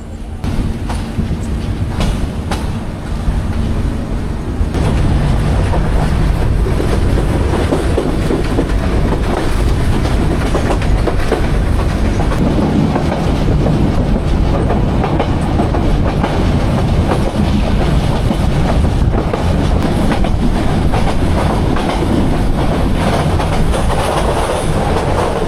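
Nasirabad Express passenger train pulling away from a station at night and running on, with loud continuous rumble and steady clickety-clack of wheels on rails throughout, close and sustained; faint voices may sit under the noise.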